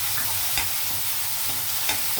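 Tomatoes frying with onions in a pan for an okra (bendakaya) gravy curry, a steady broadband sizzle with soft stirring scrapes and a couple of brief clinks, no voices.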